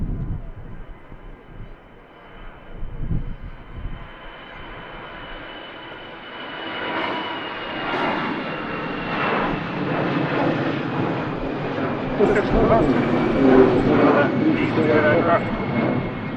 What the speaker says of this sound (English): Had EasyJet heading out to Alicante.